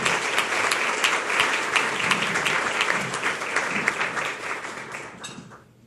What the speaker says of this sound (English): Please give them a round of applause and thank them for their service.